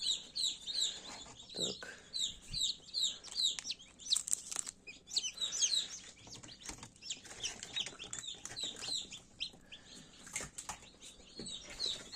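Newly hatched chicks peep inside a Teplusha incubator: a close, busy chorus of rapid high-pitched chirps repeating throughout, with occasional rustling and wing-flutter sounds beneath.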